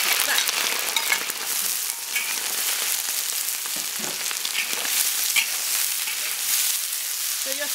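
Pig lung frying in hot oil in a wok: a dense, continuous crackling sizzle, close and fairly loud, with scattered pops and no talking.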